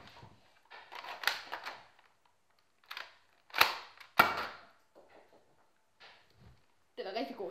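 Several sharp snapping shots from a toy blaster, scattered among bursts of nearby handling noise and clatter.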